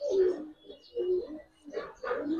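Five male Giribaz pigeons coo close by, giving throaty rolling calls in three or four bursts separated by short quiet gaps.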